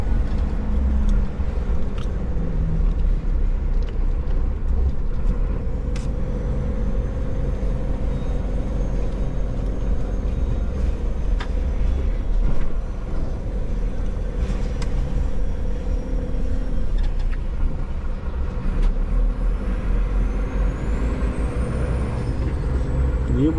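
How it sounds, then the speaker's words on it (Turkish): Heavy road traffic near a busy train station in Sancaktepe, with a steady loud rumble of trucks and cars and air brakes hissing now and then, continuous throughout. "Baksana trafiğe."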